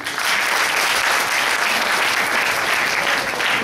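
A seated audience at a motivational talk breaks into loud, dense applause that runs steadily from start to finish, with many hands clapping together close by.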